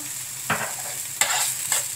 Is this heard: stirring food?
yes